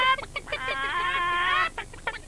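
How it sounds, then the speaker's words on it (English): Hens in an animated cartoon cluck in a burst of short calls, then a long wavering squawking run as they flap away down a street, fading to a few brief clucks at the end. "There they go, flapping down the street."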